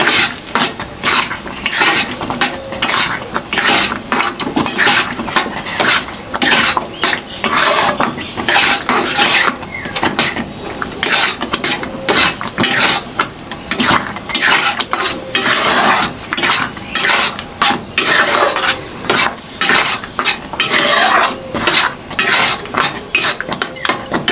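Red potato paste for fried pitha being mixed in a bowl, a steady run of scraping and rubbing strokes on the bowl repeating in a quick, uneven rhythm, close and fairly loud, with no talking.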